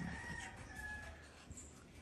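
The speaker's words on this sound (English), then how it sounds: "Wow, birds." A rooster crows faintly in the distance, a drawn-out call half buried in steady background noise with no talking.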